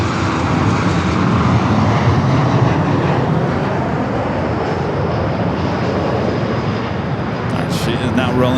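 An Airbus A350 airliner rolls down runway 24 left at LAX on its takeoff run, a steady, broad, loud engine roar held from start to finish, heard at a distance.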